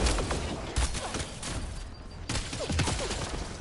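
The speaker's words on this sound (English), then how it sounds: "Okay, okay, we're firing." Dense automatic and rifle gunfire from a firefight in the sci-fi game Mass Effect Andromeda, rapid overlapping bursts running almost continuously, loud and close with a brief lull mid-way.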